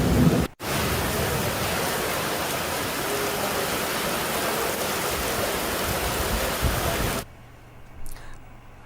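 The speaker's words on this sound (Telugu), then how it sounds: "చైతన్యపురి, కొత్తపేట ప్రాంతాల్లో కూడా భారీ వర్షం పడుతుంది." A heavy downpour hits Hyderabad as a loud, dense, roaring hiss that holds steady for several seconds. It cuts off abruptly near the end, leaving a much quieter background.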